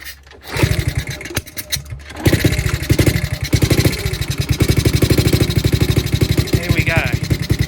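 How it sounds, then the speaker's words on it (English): A 1972 Honda CT70 motorcycle is kick-started, with a few clunks and a brief crank before the small single-cylinder engine catches and settles into a fast, steady, close idle. "we'll just give her a kick"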